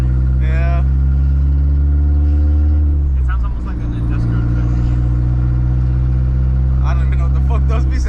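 An MK4 Volkswagen GTI 20th Anniversary Edition idles with a straight-piped, catless 3-inch downpipe, a loud deep droning rumble with a slight dip in revs, while people talk over it nearby.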